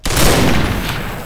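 A loud, dense burst of rapid gunfire in the video game Combat Arms crackles up close, filling a short moment before tailing off.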